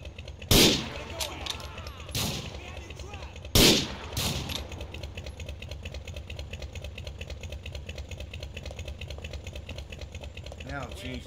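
Two loud, sharp sniper rifle shots in GTA IV, a few seconds apart, each with a short ringing tail, over a steady low game background hum.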